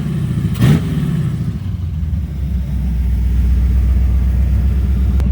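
A Pontiac Trans Am pro street V8 idles with a deep, steady low rumble right after startup, one brief sharp blip near the start, then a slightly rising, sluggish rev that settles into a loud continuous drone.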